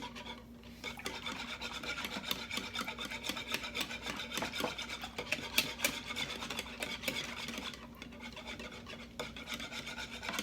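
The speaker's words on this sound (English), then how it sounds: "Now you'll whisk all of this together." Wet pancake muffin batter of egg and vanilla being whisked in a bowl, a steady close scraping and rasping that runs without a break, with no one talking over it.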